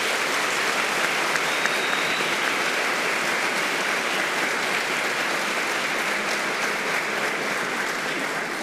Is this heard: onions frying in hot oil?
no